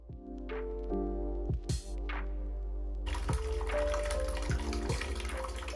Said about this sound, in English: I add water to a container and then add the shampoo to the water.